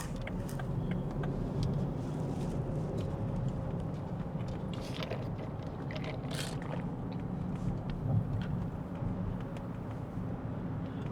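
Rolls-Royce Cullinan with its V12 engine while driving: a steady low rumble of engine and road noise running throughout, with faint clicks and taps over the top.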